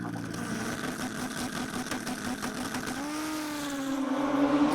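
A drag racing motorcycle doing a burnout at the ACU Super Street Bike Summer Nationals, a sustained engine roar heard from a distance that climbs in pitch toward the end.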